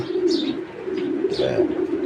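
A racing pigeon at a breeder's loft gives a low, continuous throaty coo that rolls on steadily for a couple of seconds, with a few brief higher chirps over it and little else around.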